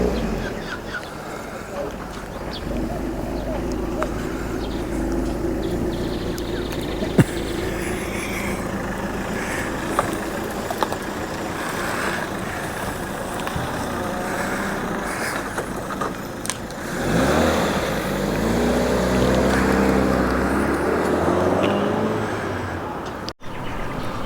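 A Ford Fiesta on the move, its steady low engine and road rumble running continuously underneath conversation from people riding inside, growing a little louder and rougher toward the end.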